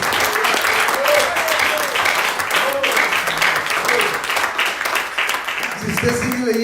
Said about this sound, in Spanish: No sé si usted le nazca darle un aplauso al Señor